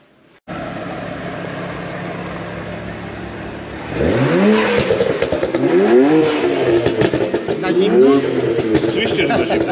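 A car that was electronically coded overnight accelerates while driving, its engine note climbing through repeated rising revs as it shifts gears, loud and steady over road noise.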